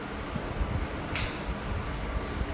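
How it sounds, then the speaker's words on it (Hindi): An electric fan runs indoors in summer with a steady, loud broadband whoosh and low rumbling hum throughout, with no talking. "पंखा की आवाज़ बहुत ज़्यादा है"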